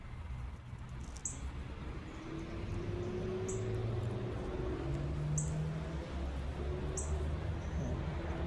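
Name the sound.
birds chirping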